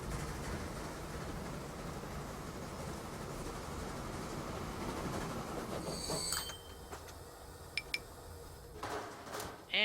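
Silver train running on tracks in the video game Transport Fever 2, a steady rolling rumble with clickety-clack that drops away to quieter scattered clicks and chimes near the end, no talk.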